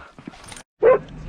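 A dog gives a short yip and whimper during a goose hunt at a hole cut in the ice, one loud sharp burst after a brief silence, with faint rustling around it.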